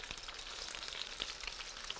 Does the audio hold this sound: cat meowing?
no